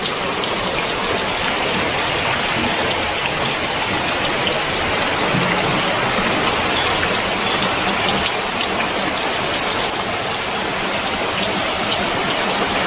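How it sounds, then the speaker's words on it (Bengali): Heavy rain pours steadily on a rainy day, a dense, continuous rushing hiss of drops on surfaces close by, with no voices for the whole stretch. "বৃষ্টি হচ্ছে দেখো কেমন জোরে জোরে"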